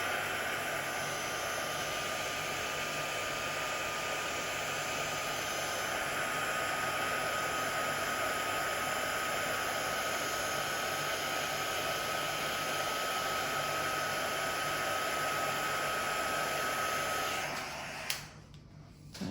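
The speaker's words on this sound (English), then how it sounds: "So I'm going to assist this by using a small dryer." A small hair dryer blows over wet watercolour paint in a constant, even whirring hiss that runs for about seventeen seconds, then cuts off abruptly.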